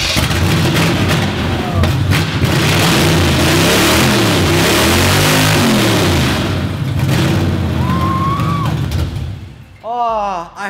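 A loud car engine revving hard nearby, droning steadily with rising and falling pitch sweeps, while people talk over it and a voice breaks through near the end.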